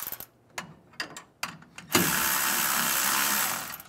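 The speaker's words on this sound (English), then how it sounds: "And evenly, we'll tighten these down." A hand ratchet tightens bolts on an air suspension helper spring kit for a 1999-2006 Chevrolet Silverado, first a few separate clicking strokes, then a fast continuous ratcheting run, close and fairly loud.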